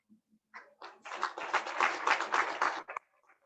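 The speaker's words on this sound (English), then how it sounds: "Can we have a huge round of applause for Neha Sharma ma'am?" At an International Women's Day celebration, scattered claps build into a short, fairly close round of audience applause. It peaks for about two seconds and then stops abruptly, with a few stray claps trailing off.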